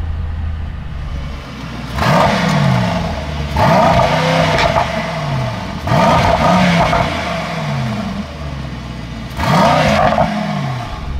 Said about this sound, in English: It has a lot of pops and bangs, as you could hear